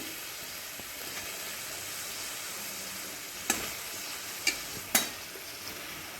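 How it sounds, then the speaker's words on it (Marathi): Mashed potatoes being stirred into pav bhaji masala in a pan, with a soft steady sizzle under the stirring and three sharp spoon scrapes or knocks near the end. "आता आपल्याला एकदम घ्यायला व्यवस्थित प्रकारे असं मिक्स करून घ्यायचं आहे मसाला आणि बटाटा एकत्रित मिक्स झालं पाहिजे"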